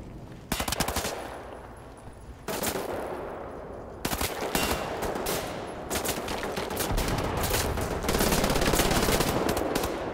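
Rapid automatic turret gunfire in the video game Wolfenstein: The New Order, loud and close, with sustained bursts and brief gaps across the whole stretch.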